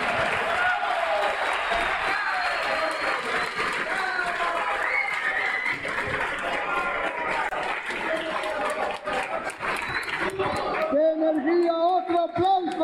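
A crowd at a Venezuelan political training gathering applauds with cheering and scattered shouts mixed into the continuous clapping, and a voice speaks over the noise as it ends.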